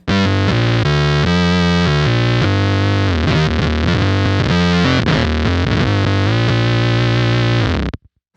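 Bass guitar through a Beetronics Whoctahell low octave pedal, giving a thick, fuzzy, synth-like tone that plays continuously and loudly for about eight seconds before cutting off.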